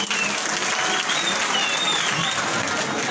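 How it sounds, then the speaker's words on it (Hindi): Loud, steady applause from a crowd at a religious stage gathering welcoming a visiting singer from Padar, continuous dense clapping throughout without pause. "एक बार जोरदार ताली बजाइए।"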